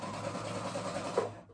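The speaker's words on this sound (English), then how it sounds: "a basting stitch is just the longest stitch possible on your sewing machine" A sewing machine runs a long basting stitch through fabric for paperbag pants, a steady close whirring hum that stops abruptly after under two seconds.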